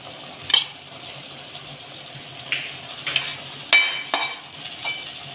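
Poha being stirred and mixed in a pan for potato poha, giving scattered light scraping clicks and soft sizzling taps against a faint steady background.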